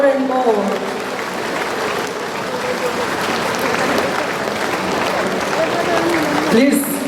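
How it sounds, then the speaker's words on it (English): Sustained applause from a large congregation at an episcopal ordination of an auxiliary bishop, a loud, even roar of many hands clapping without pause, with voices speaking over it. "Please keep clapping your hands, please"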